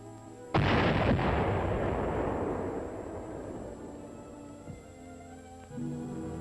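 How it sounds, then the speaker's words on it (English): A single heavy dynamite blast clears ice off a beach into a bay, booming suddenly and rolling away in a long decaying rumble, with faint distant thuds afterward. "Dynamite was used to blast it into the bay."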